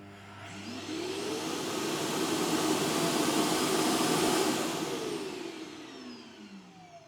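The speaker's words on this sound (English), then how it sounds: "the dustbin can completely get cleaned out every time when the robot goes back to its base" A Lydsto R1 self-empty base kicks on to suck out the robot vacuum's dustbin, a steady loud whooshing motor roar that swells over several seconds and then tapers off as the cycle ends.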